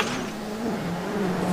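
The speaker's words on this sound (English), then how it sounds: "He's overshot a junction and has to reverse back onto the stage." A Ford rally car's engine drones steadily at close range as it reverses back onto a stage at the 2010 WRC Rally Japan, a continuous low hum with slight pitch wavering.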